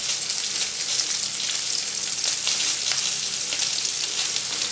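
Honey-glazed pork loin sears in a hot pan with a steady, close, loud sizzle that holds evenly throughout, with faint crackles and no voices.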